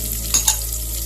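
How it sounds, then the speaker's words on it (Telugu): Onions and green chillies fry in hot oil in a pan, a steady close sizzle with two brief stirring scrapes near the middle. "ఒక 2 మినిట్స్ ఫ్రై చేసుకోవాలి"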